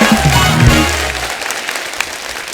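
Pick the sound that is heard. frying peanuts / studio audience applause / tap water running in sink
studio audience applause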